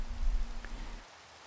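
Steady rain falls in the Minecraft video game, a soft, even hiss that holds for about a second before dropping away to near silence.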